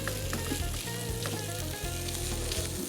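Sausages fry in a pan with a loud, constant sizzle and crackle, stirred as they cook, close up and with no talk.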